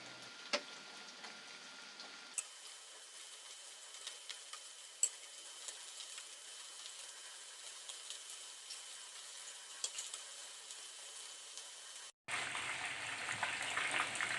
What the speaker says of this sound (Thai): น้ำมันเดือดแล้วเราก็เอาหมูลงทอดกันเลยดีกว่าค่ะ